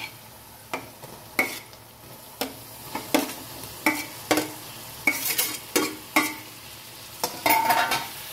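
A spoon stirs fenugreek leaves into curry masala frying in oil in a pan, giving repeated scraping strokes over a steady sizzle, close and fairly loud, with no talk.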